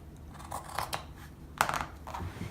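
Scissors cutting through denim from recycled jeans, several distinct crisp snips spaced irregularly across a few seconds, close and quiet with no talking.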